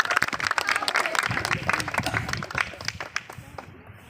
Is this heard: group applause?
yes